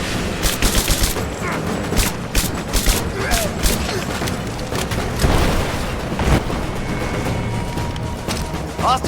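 Rapid gunfire in the video game Rise of the Tomb Raider, dense bursts of close, loud shots cracking continuously over a combat din, with voices calling out between the volleys.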